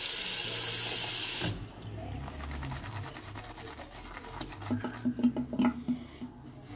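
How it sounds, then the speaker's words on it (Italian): Water pours loudly from a tap into a basin for about a second and a half while shaving lather is being prepared, then gives way to quieter wet swishing and patter nearby. "Ancora un po' d'acqua."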